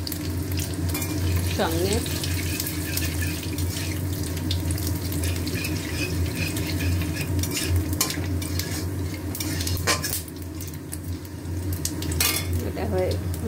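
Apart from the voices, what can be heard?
frying and stirring spice tempering with sugar in pan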